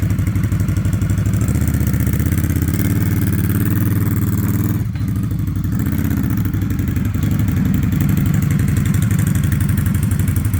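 Motorcycle engine running as the bike is ridden, a loud, close, continuous throb with a slight dip midway, steady throughout and without talk.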